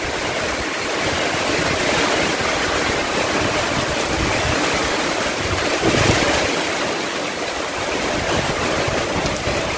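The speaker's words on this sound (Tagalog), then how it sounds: "Ang lakas ng ulan at saka ang lakas ng hangin guys, grabe." Strong rain and wind from Typhoon Odette, a Signal No. 4 storm in Cebu, roar as a dense, unbroken wash of noise that stays loud and steady throughout, with gusts swelling briefly.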